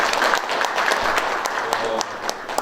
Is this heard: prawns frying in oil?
no